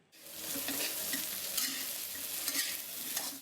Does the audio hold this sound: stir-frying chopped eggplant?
yes